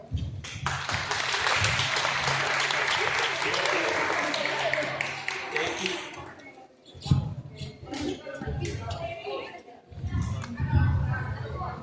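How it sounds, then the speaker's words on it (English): An audience at a STEAM Week panel in New York claps loudly for about six seconds, the applause fading out before a speaker talks with scattered handling noise. "Give a big round of applause for the work that we have here"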